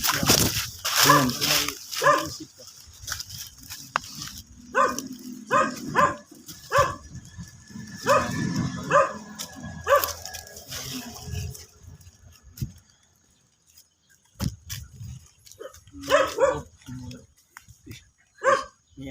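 A dog barks in a series of sharp, close yaps mixed with people talking outdoors in the Philippines. The barks come in bursts with a short quiet gap near the middle.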